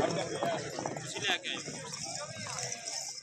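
Horse hooves pounding during a tent pegging competition, a rhythmic clip-clop running through busy crowd noise and an announcer speaking over a loudspeaker.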